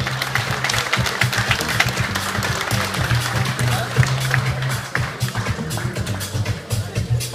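Applause at an MMA jiu-jitsu tournament for the winner of the sixth fight, steady crowd clapping throughout, with a voice talking over it.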